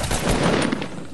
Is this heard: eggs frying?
no